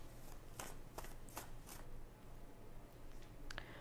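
Oracle cards being shuffled during a weekly reading, a run of quick riffling bursts spaced about half a second apart, then a brief pause and a final snap of cards near the end, close and clear with no talk.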